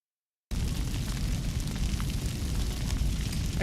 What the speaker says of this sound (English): Explosions continue to dully rumble on while sharp, intermittent blasts interrupt every so often